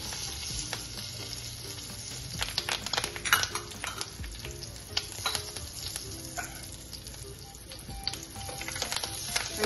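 Dry red chili, asafoetida, curry leaves and a pinch of turmeric sizzle in hot oil for a raw jackfruit curry, a close, busy crackle with scraping stirs and occasional clinks of a spoon against the pan.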